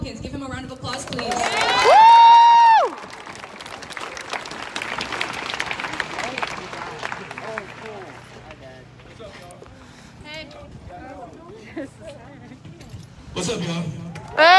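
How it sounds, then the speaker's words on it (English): A loud burst of applause and cheering from a crowd near the start, fading into scattered clapping and chatter, then another short swell at the end. "Give him a round of applause, please."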